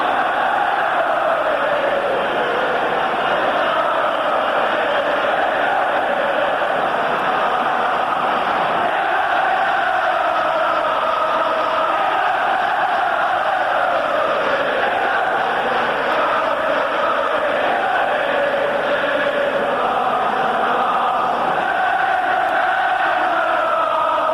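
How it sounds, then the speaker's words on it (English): A football stadium crowd at a 1980 England versus Argentina international friendly, a dense, loud, sustained roar of cheering that swells and ebbs continuously throughout, broadband and distant-sounding. "The appreciation of the crowd as music in their ears."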